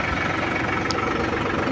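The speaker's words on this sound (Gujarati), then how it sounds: "અને હવે આ રસ્તેથી ઊંધું ટ્રેક્ટરવાળીને લઈ જવાનું છે સાઈડ બ્રેકનો ઉપયોગ કરીને" A tractor engine runs steadily while the tractor turns using its side brake, a loud continuous low idle-like rumble with slight vibration throughout.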